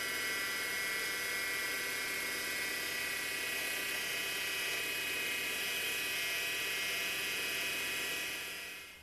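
A lathe drills a gas orifice with a 0.8mm drill held in a pin chuck inside a 4-jaw chuck, giving a steady, fairly quiet whine and mechanical hum that fades at the end.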